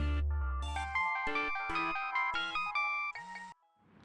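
A melodic electronic phone ringtone plays loudly, a bright synth tune of several bouncing notes that cuts off near the end.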